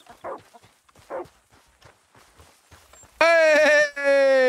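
A dog in the video game Red Dead Redemption 2 lets out two loud, drawn-out barks or yelps near the end, following a stretch of faint, talk-like sounds.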